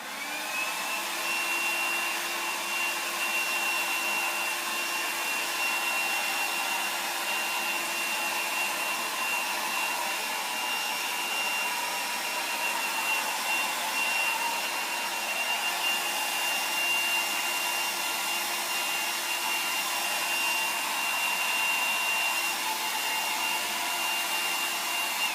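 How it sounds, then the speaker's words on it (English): A hair dryer runs steadily at close range while blow-drying hair at the scalp, a constant loud whooshing hum with a thin whine that never lets up. "I'm going to pick it up and get it all dry at my scalp, directing it where I want it"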